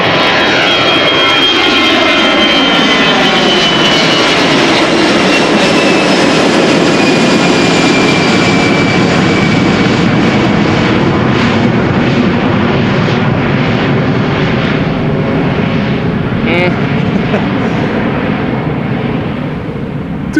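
A jet airliner takes off from Amsterdam Schiphol Airport with a loud, sustained engine roar and a descending whine, holding steady for about twenty seconds before slowly easing as it climbs away.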